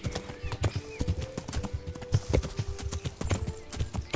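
Horse hooves clip-clop steadily and close by in the medieval video game Kingdom Come: Deliverance, a rhythmic stream of hard knocks with a faint whinny-like tone and game ambience underneath.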